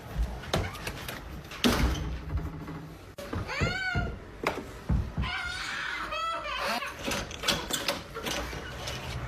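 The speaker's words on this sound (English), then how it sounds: "Let me open the door." A household door is opened and closed, giving several wooden clunks and thumps spread through a busy room, mixed with people talking and laughing nearby.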